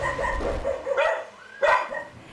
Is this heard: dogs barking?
yes